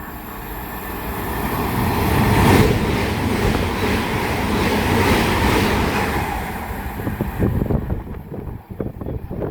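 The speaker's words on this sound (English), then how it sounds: "It's going to be another Great Western Railway 387 going from Didcot Parkway to London Paddington." A Great Western Railway Class 387 electric train passes a platform at Goring & Streatley, running from Didcot Parkway toward London Paddington, a loud, broad rushing roar that swells, peaks twice and fades with rattling clatter at the tail.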